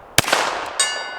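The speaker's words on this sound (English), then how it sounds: "That one must just have a bad primer in it. Let's drop the striker on it twice with nothing." A Canik TTI Combat pistol's striker falls on a round with a bad primer, giving one sharp metallic click followed a moment later by a second ringing clang, both close and alone with no voices.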